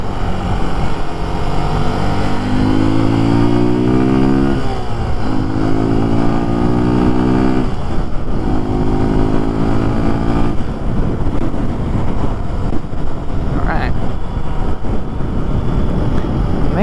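Motorcycle engine droning steadily while riding downtown in traffic, with rising and falling rev harmonics as it accelerates and shifts, wind buffeting the microphone throughout and trucks passing nearby.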